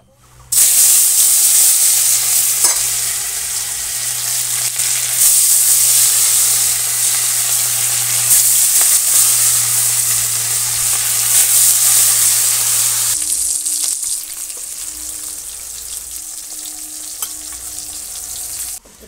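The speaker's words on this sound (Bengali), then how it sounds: "মাছ ভাজা হয়ে গেছে" Katla fish steadily sizzling and frying in hot oil in a pan, a loud, continuous crackling hiss that carries on without pause, with a low hum underneath that changes partway through.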